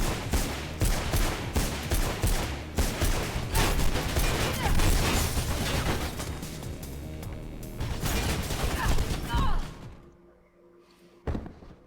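Enemy gunfire in the video game Mirror's Edge: dense, rapid volleys of shots with thuds and impacts, loud and continuous for about ten seconds before cutting off, followed by a lone bang.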